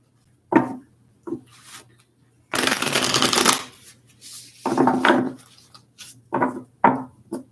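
A deck of tarot cards gets shuffled by hand in a series of crisp riffles and longer rustling bursts, close and fairly loud, with short pauses between them and no talking.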